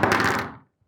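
An Infinix Note 60 Pro smartphone dropped onto its back lands with a single solid thunk that rings briefly and fades within about half a second, leaving silence.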